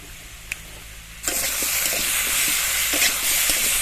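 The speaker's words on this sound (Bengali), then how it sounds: "এবার এর মধ্যে বেটে রাখা লঙ্কাটা দিয়ে দেবো।" Ground chili paste hits kohlrabi frying in oil in a pan, and a loud sudden sizzle bursts up and continues strongly, with a few stirring taps underneath.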